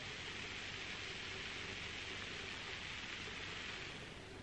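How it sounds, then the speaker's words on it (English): Heineken Silver lager fizzes in a glass, a soft, continuous hiss of carbonation bubbles that holds steady and close throughout with no talking. "Bubbles."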